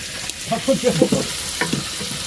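Tilapia fish sizzles and fries in a pan, a steady crackling hiss with stirring noises, while faint voices murmur briefly over it.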